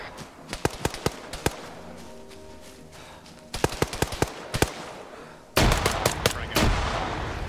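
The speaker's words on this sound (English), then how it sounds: "Toss a frag at that tree." Gunfire and explosions in a military shooter game: bursts of sharp rifle shots, then a heavier boom that rolls into sustained loud rumble near the end, close and loud, with no voices.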